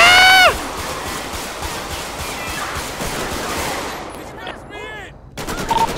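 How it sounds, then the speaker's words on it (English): Heavy bursts of automatic gunfire crackle outside a sheriff's station in GTA 5 with the LSPDFR police mod, loud and sustained, with whistling ricochet-like tones and a brief pause near the end before more shots. "Shots fired."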